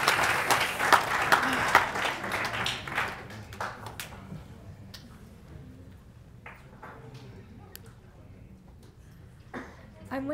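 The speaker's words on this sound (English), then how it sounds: "Round of applause for Mr. Narcisse." An audience at a school youth forum event claps for a speaker, a burst of applause that is strongest at the start and then thins into scattered claps, with talk in the background.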